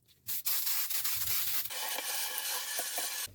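A Turbo Scrub 360 power scrubber scrubs the grimy dark underside of a child's bath mat, giving a steady, close abrasive rubbing and whirring that starts after a brief pause and runs without talk.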